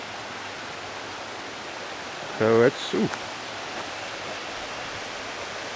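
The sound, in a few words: creek flowing water near High Shoals Falls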